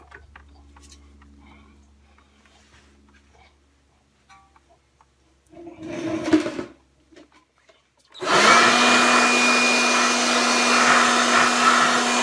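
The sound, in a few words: small shop vacuum running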